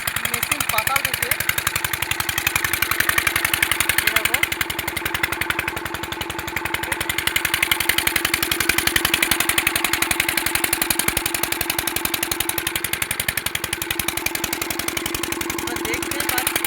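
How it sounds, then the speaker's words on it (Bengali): An engine-driven water pump runs in a field, drawing groundwater up from deep below, its motor holding a steady, loud, even throb with a mechanical buzz from start to finish. "এই জলটা উঠছে গাইস মেশিন পাতাল থেকে।"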